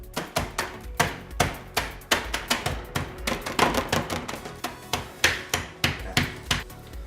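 Oreo cookies crushed inside a sealed plastic zip bag, a rapid run of sharp, close thuds and crunches pounding out an irregular rhythm with no talk over it.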